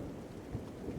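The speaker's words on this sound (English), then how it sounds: "while the rain lashes down and the fire glows steady" Heavy rain pours steadily beside a campfire, with low rumbles of thunder rolling underneath the continuous wash of the downpour, moderately loud and close.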